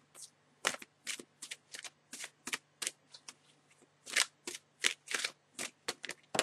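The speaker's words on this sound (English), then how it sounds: "I almost forgot to shuffle the oracle deck and get that done" An oracle card deck is shuffled in a quiet room, with a long series of quick, crisp riffling bursts close by, each followed by a brief pause in an irregular rhythm.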